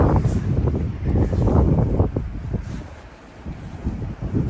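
Steady wind buffeting the microphone in cold weather in London, a rough low rumble that swells and eases over a few seconds, with no voices.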